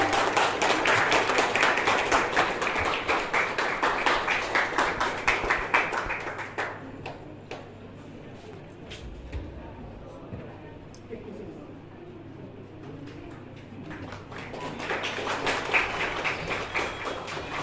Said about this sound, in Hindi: जोरदार तालियां हो जाए, तालियों में कमी नहीं होनी चाहिए